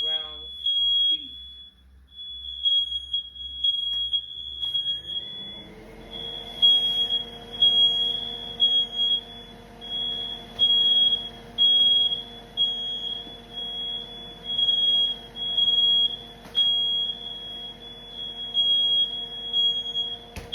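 A kitchen smoke detector set off by cooking steam while chili beans simmer on the stove emits a loud, steady run of high-pitched beeps for the whole stretch, with a low hum and faint kitchen noise underneath.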